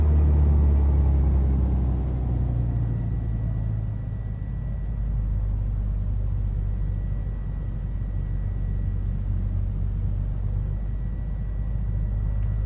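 An aircraft engine idling near 1,000 RPM in Microsoft Flight Simulator on a home-built cockpit setup, a deep continuous rumble that settles down from a slightly higher start and holds steady throughout.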